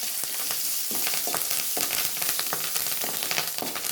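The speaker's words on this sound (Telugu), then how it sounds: "ఉల్లిపాయలు ఈ విధంగా వేగనివ్వాలి" Onions with curry leaves frying in a pan, a steady close sizzle broken by scraping stirs at irregular intervals, with no talking.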